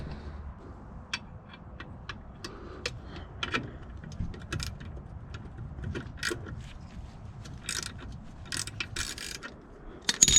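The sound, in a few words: box wrench loosening bolt on Toyota pickup sway bar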